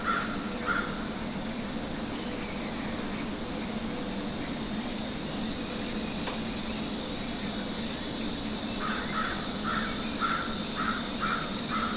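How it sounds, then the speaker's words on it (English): Crows caw faintly in the distance outdoors, a brief pair of calls early and a run of repeated caws near the end. A steady bed of insect buzz and hiss sits underneath. "Sounds like we got some crows in the background."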